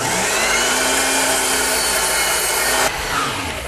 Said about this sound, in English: now I'll just bring the pieces over to my power miter box and square up the top